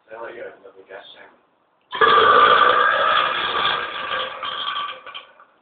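A person lets out a massive, really loud burp lasting about three and a half seconds, close and harsh. Brief talk comes just before it.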